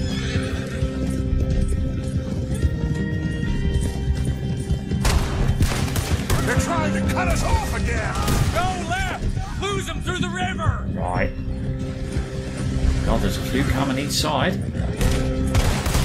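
Enemy gunfire during a horseback chase in Red Dead Redemption 2, with repeated shots crackling over galloping hooves and neighing horses while someone shouts briefly.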